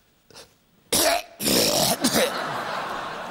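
A person gives a deliberate, forced cough with throat clearing, a few close loud bursts in quick succession followed by a rough, breathy tail, no speech.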